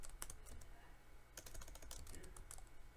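Fingers type code quickly on a computer keyboard, a close, steady patter of key clicks with a few louder strokes, over low background hum.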